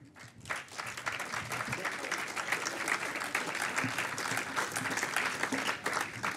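Audience at the 2015 Laundry and Dry Cleaning Awards ceremony gives full, sustained applause that swells quickly and stays steady and dense, with no talk over it.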